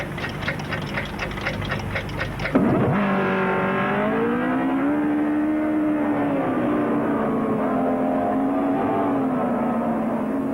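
About 18 to 20 Formula One powerboat engines fire up together at a race start at Bristol Docks in 1978 and roar loudly, pitch sliding and rising as they accelerate away in a sustained, layered drone.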